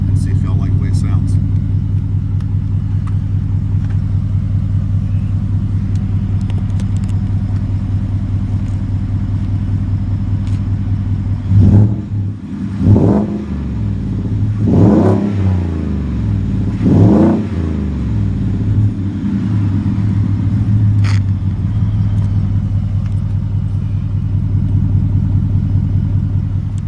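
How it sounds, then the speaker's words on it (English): A 2018 Ford F-150 special edition with cold air intake and Magnaflow dual exhaust idles with a deep steady rumble, then gets three or four short sharp revs midway before settling back to idle, recorded close. "So I'm gonna give it a couple revs so y'all can listen to it and see if y'all like the way it sounds."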